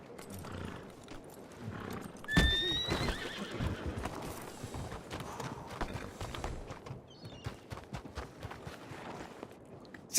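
A horse in the Red Dead Redemption video game lets out a loud whinny, then hooves clip-clop at a walk with scattered thuds, close and alone.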